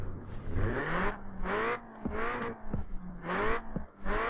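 A stock 1984 Honda Civic CRX Mugen engine in the racing game Forza Horizon 4 revs up and down repeatedly in rising, whining bursts with gear-shift breaks, loud and close, no talking.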